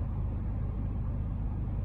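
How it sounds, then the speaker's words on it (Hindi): A Kia Sonet GT Line's engine idles steadily after a push-button start, a continuous low rumble heard up close from inside the car with no voices over it. "यहाँ पे पुश स्टार्ट का, यहाँ से स्टार्ट करके दिखाते हैं"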